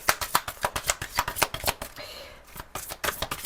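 Tarot cards being shuffled by hand, a quick run of crisp riffling snaps and slaps in an uneven rhythm with a short pause, close and clear.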